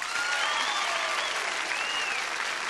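Studio audience at a TV game show breaks into sustained, dense applause with whistles and cheers mixed in, loud and continuous throughout.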